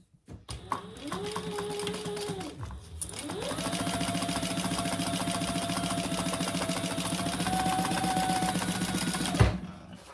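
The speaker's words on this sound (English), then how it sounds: "So you're sewing along the top and the bottom, which ends up being the 8-inch" A sewing machine top stitching a fabric clutch wallet, its motor whirring in two steady runs with a short pause between, close and fairly loud, a faint clunk near the end.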